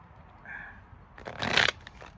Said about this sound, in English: One more successful shuffle, then cut the cards.